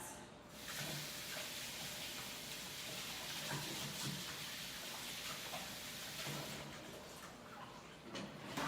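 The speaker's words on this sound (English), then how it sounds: "Wash my hands." Tap water runs steadily into a home kitchen sink during hand washing, a continuous close hiss and splash lasting several seconds with no one talking.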